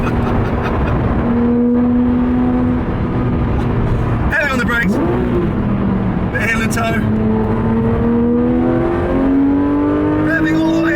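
A Porsche 911 GT3 RS 3.8 revving hard on a race track, a loud engine note climbing steadily with gear changes and a brief tire squeal, heard from inside the car with a voice talking over it.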